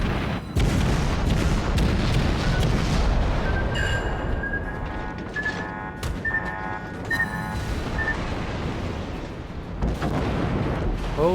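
Ship guns fire in World of Warships, a rapid series of booming shots with game sound effects, loud and dense, with bursts of chiming tones between the blasts.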